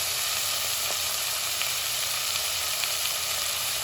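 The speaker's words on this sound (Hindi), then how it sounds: "सॉफ्ट होने के लिए इसको हम भूनेंगे।" Carrots and tomatoes sautéing with salt in a pan give a steady, even sizzle and hiss that runs throughout, close and fairly quiet, with a few faint ticks.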